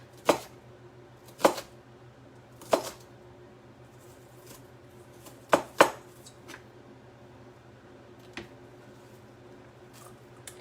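Knife chopping vegetables into small pieces for a Moroccan tomato salad: sharp, separate chops in an irregular rhythm, with a few louder strikes early on and softer ones later, up close against a low steady hum.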